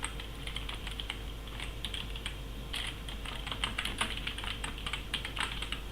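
Rapid, continuous keystrokes on a computer keyboard, close and fairly quiet, with clustered clicks and a few heavier taps over steady room hum; no voices.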